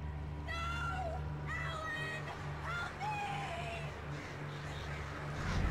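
Birds cawing in the video game Alan Wake, several harsh calls in a row over a steady low electronic hum, with no one talking.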